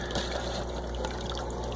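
Water tumbling into an EHEIM skim350 aquarium surface skimmer that holds a small sponge inside: a close, continuous trickling splash with a soft gurgle, steady and unbroken.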